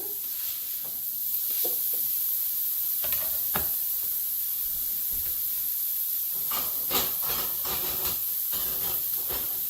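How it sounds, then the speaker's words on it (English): Bacon strips sizzle and crackle in a hot frying pan during breakfast cooking, a steady hiss with scattered sharp pops throughout, loudest and busiest toward the end. "go ahead and drop the bacon in"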